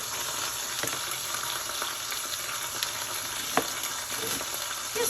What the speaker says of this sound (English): You're not cooking the meat, you're just browning the outside of the meat.